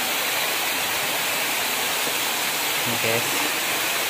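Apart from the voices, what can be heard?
large stream of water flowing under a bridge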